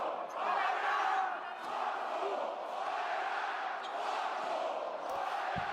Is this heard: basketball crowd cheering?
yes